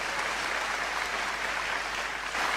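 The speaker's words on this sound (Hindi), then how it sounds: "उसका जवाब सुनना और तालियां मेरी पत्नी के लिए बजा देना।" Steady applause from a kavi sammelan poetry gathering audience in Gujarat, an even wash of clapping held at a constant moderate level throughout, with no speech over it.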